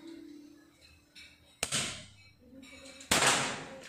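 Two sharp shots from a CNC-made PCP air rifle, the Tactical Libas unit, fired with Hercules pellets, each a crisp close crack with a short tail, spaced well apart against a quiet background.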